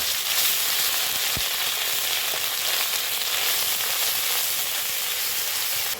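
Onion with garlic, ginger and cumin pastes fries vigorously in hot oil, a loud, continuous close-up sizzle with one brief knock of a utensil and no talking.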